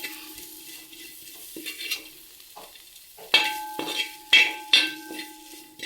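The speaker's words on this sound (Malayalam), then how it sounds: "മസാലകളെല്ലാം ഇട്ട ശേഷം നമ്മൾ നന്നായിട്ട് ഇളക്കി കൊടുക്കണം അതെ ഇതുപോലെ നന്നായിട്ട് ഇളക്കുക" Masala being stirred into cooked eggs in a sizzling pan, with a utensil scraping the pan in repeated strokes that grow louder and more forceful in the second half, close up, with no one talking.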